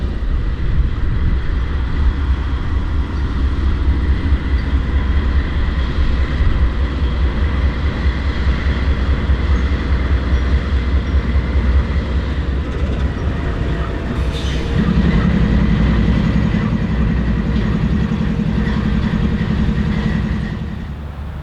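A CN freight train on the Marquette Range subdivision in Michigan's Upper Peninsula sets out a single rail car, with steady loud rumble of rolling wagons and wheel noise throughout, a deeper engine drone joining in the later stretch.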